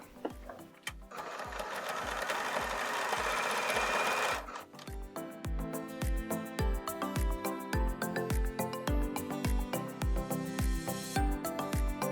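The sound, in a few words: sewing machine stitching darts on fabric face mask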